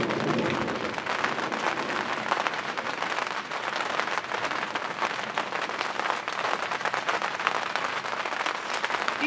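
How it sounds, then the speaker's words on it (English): Heavy rain pours down in a dense, constant hiss and patter, close and loud with no pauses, and no voices over it. "Be nice if that's as hard as the rain comes down"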